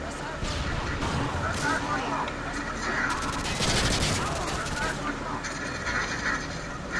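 Rapid bursts of gunfire in a first-person shooter game, dense overlapping shots crackling loudly and continuously for several seconds with mechanical clatter mixed in and no talk over it.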